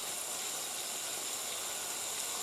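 Fish in sour cream sizzles in a non-cast-iron frying pan over medium heat, a dense, even, continuous hiss without pauses.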